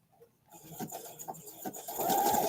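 A sewing machine stitching a zigzag in reverse starts after a quiet moment, its close mechanical whir and rhythmic needle ticks growing louder and steadier toward the end.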